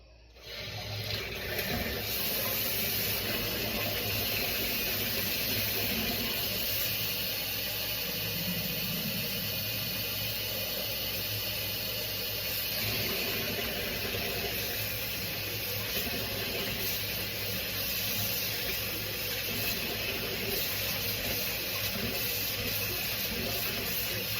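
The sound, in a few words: container being filled with cold tap water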